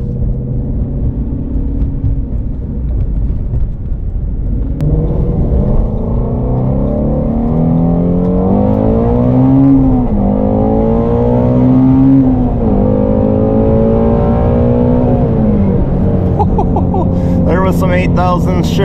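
Shelby GT350R's 5.2-liter V8 rises loudly toward its 8200 RPM redline, the pitch sweeping up and falling back across repeated revs, close and dominant over the whole stretch.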